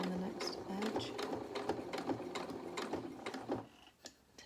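A sewing machine runs in steady rapid bursts while stitching the edge of a pair of small doll jeans with contrast top stitching, the mechanical chatter close and continuous, with soft talk over it.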